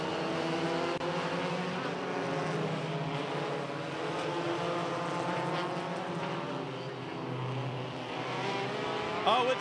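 Front-wheel-drive race car engines drone and whine steadily at a distance during an endurance race on the Irwindale Speedway roval, a continuous roar of several cars running together, with no speech.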